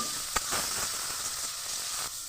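Chopped green chili, cumin and chopped tomato sauté in hot oil, giving a soft, continuous sizzle and hiss up close with one sharp tap near the start.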